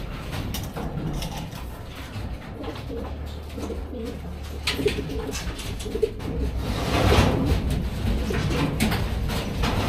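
Racing pigeons cooing repeatedly at close range as birds return to the loft at the end of a derby race, with soft rustling and background ambience.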